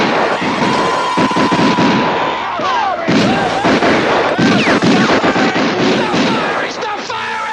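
Gunfire in a 1970s horror film: dense, loud bursts of shots and blasts in rapid succession, mixed with shouting voices and whistling sounds over a constant din.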